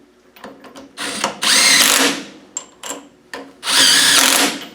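A power tool runs bolts into an LT230 centre differential casing in a workshop, with several loud, close bursts of drilling whine separated by short pauses and small clanks of handling.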